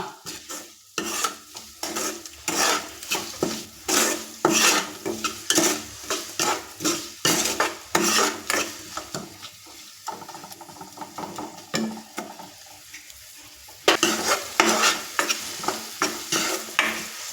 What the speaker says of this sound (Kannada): ಈಗ ಏನು ಟೊಮೊಟೊ ಇದೆ ಚೆನ್ನಾಗಿ ಹದ ಆಗೋವರೆಗೂ ಅಂದರೆ ಚೆನ್ನಾಗಿ ಅದರ ಫ್ರೈ ಆಗೋಕ್ಕೆ ಎರಡು ನಿಮಿಷ ಬಿಟ್ಬಿಡೋಣ